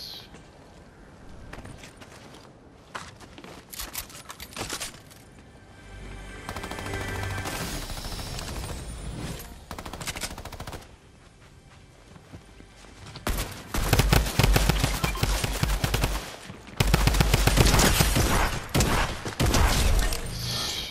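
Gunfire in the video game Fortnite, scattered single shots giving way to loud rapid automatic bursts in the latter half, with intermittent game mechanisms and a player talking.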